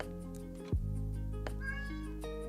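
A cat meows close by in a quiet indoor room, a single tonal call that rises and then holds, with a steady low hum underneath and no talking.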